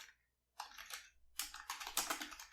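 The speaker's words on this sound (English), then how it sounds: "So if I can start typing" Typing on a computer keyboard in a code editor, with rapid clicky keystroke bursts at close range after a brief quiet pause, heard alone.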